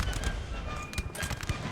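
Cannon fire in Napoleon: Total War, a multiplayer 4v4 battle among lakes and hills, heard as a dense run of loud booming shots and crackling blasts, one after another.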